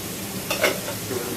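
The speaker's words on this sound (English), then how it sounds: "just ladle the butter and the thyme over the steak" Steak frying in a pan while melted butter and thyme are spooned over it, giving a low, steady sizzle with a couple of brief louder spatters as the butter lands.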